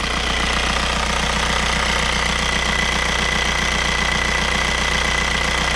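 VW Audi 1.9 TDI 110 hp diesel engine running after injection timing adjustment, a steady close idle with a fast, even knocking clatter and constant low rumble, no surging.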